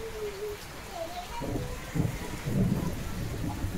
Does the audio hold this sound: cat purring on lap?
no